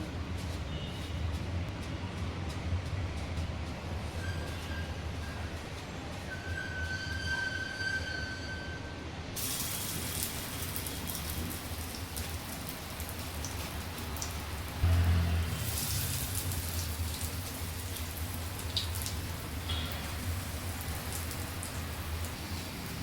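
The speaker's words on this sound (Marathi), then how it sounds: "गॅसवरती मी तवा ठेवलेला आहे तवा गरम झालेला आहे आणि थोड्या तेलामध्ये मी फ्राय करणार आहे" Beetroot and brown-bread patties coated in semolina fry in a little oil on a hot tawa over a gas flame, giving a continuous, even crackling sizzle with a low background hum and a brief louder knock midway.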